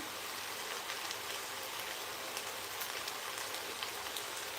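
Rice roasting with salt in a pan for khichdi gives a steady, soft, dense crackling hiss that runs evenly from start to finish without pause.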